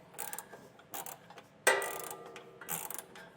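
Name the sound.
socket ratchet tightening trailer hitch bolts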